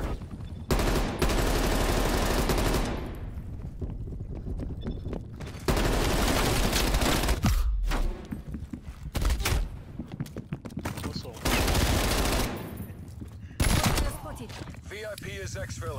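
Call of Duty Black Ops Cold War gameplay with repeated loud bursts of gunfire and sustained volleys, heavy and close, with game voices speaking between them.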